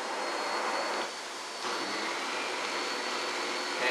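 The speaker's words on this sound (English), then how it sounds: "Now let me turn the brush roll on, which will make it a little bit noisier" A Miele S5481 canister vacuum with its powerhead brush roll running gives off a steady, broadband whooshing hum, dipping slightly as the second motor kicks in, with no talking.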